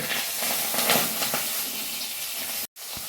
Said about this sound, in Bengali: এদিকে মাছের মুড়ো ভাজা চলছে